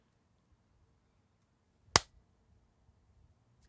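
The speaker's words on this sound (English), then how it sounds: "We gotta clap it up." A single sharp hand clap rings out once, loud and close, in an otherwise near-silent room.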